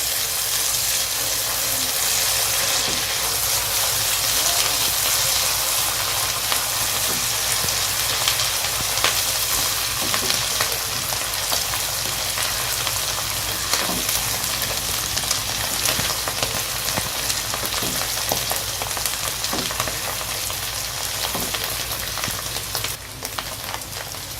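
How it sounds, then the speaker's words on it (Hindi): Ginger garlic paste frying with goat liver on a hot tawa, making a steady, dense sizzle that stays even and close throughout with faint crackles and no voices. "तो इस पॉइंट पे मैं अब इसमें लहसुन अदरक का पेस्ट ऐड कर दूंगी 1 बड़ी चम्मच भर के। जी तो ये देखें और इसको भी 2-3 मिनट भूनेंगे।"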